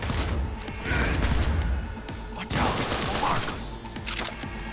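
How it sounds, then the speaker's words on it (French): Long-range machine gun fire in the video game Cyberpunk 2077, a dense continuous rattle of rapid shots with a faint voice talking underneath. "Je vais passer au flingue, enfin à la mitrailleuse parce qu'ils sont loin."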